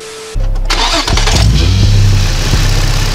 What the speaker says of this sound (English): So turn the car on and start moving the wheels side to side